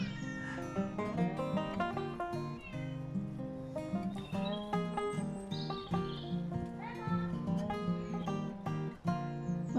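A cat meows repeatedly up close, drawn-out pitched cries following one another in a steady string, with no speech over them.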